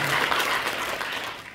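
Applause at a Korean environmental volunteer awards ceremony, a brief dense burst of clapping from an audience that tapers off over a second and a half.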